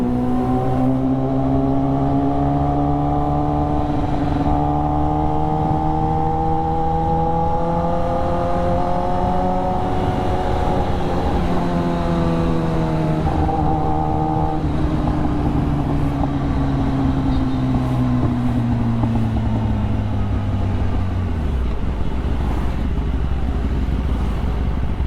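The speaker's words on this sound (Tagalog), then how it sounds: "traffic na rito" Road traffic with cars and motorcycles passing close by. Engine notes rise and then fall in pitch as each vehicle goes past, overlapping in a continuous roadside drone with no talking.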